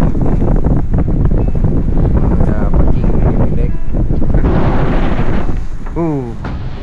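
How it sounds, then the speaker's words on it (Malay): Strong wind buffets the microphone at 3 a.m. on a beach during surf fishing, a loud, rushing roar with brief speech over it and a fading whistle near the end. "Angin kat luar agak berdesing."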